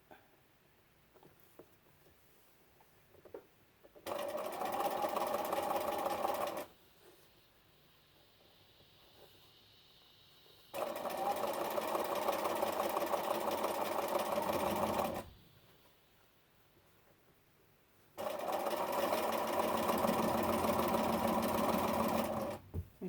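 A sewing machine stitches fabric scraps for a quilt in three long bursts of rapid, steady whirring, separated by quiet pauses with faint handling noises.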